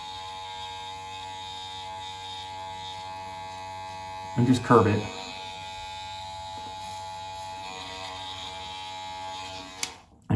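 An electric beard trimmer hums in a steady close buzz throughout, changing briefly in tone midway as it cuts, while someone speaks quietly over it.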